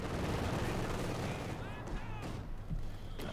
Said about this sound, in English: Another mortar, another pack. Mortar fire going off here.